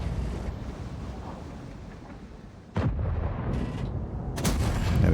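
A tank gun fires in a World of Tanks style battle: after a low rumbling engine bed, one sharp loud blast bursts out, then further heavy booming reports follow as the rumble swells, no speech.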